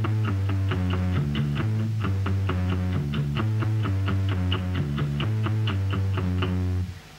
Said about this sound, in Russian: Вы располагаете мягкую часть кисти рядом с подставкой, касаясь струн и приглушая их.